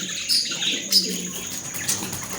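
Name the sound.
Australian birds chirping at a nest box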